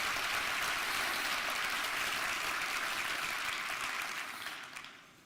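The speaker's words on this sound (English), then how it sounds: "Ladies and gentlemen, please give a round of applause for these amazing nonprofits being supported by Visit Orlando" Audience at a Visit Orlando business insights luncheon applauds the supported nonprofits: dense, steady clapping throughout that fades out near the end.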